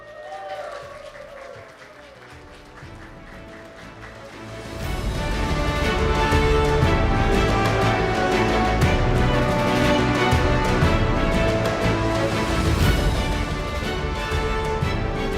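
A conference audience at the Marketing 2.0 event in Dubai bursts into loud cheering and sustained applause for an award winner, swelling from a quieter room to a dense roar that holds steadily to the end.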